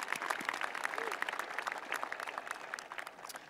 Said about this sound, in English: Please join me in thanking these educators with a round of applause.